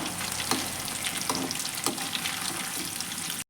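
Cauliflower 65 frying in hot oil in a pan, a dense continuous sizzle with soft scraping and clinking as the pieces are stirred, close and steady throughout.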